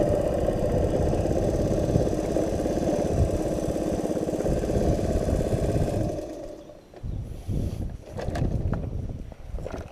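A Honda PC50 moped engine runs steadily with a dense low putter, then drops away after several seconds into uneven quieter revving and scattered knocks.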